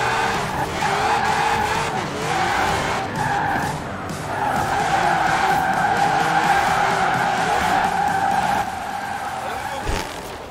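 BMW E46 with a stock engine drifting in a Forza Horizon 4 drift contest, sustained loud tire squeal over engine roar, continuous for about ten seconds with brief dips, while a voice talks over the game sound.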